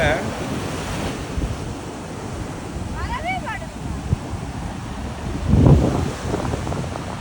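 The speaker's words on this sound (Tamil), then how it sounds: "இந்த இது எப்பயுமே அலை அதிகமாக இருக்கும்." Strong ocean waves at Dhanushkodi beach wash and roar continuously under wind buffeting the microphone, with a louder surge breaking near the end and a brief voice calling out amid the surf.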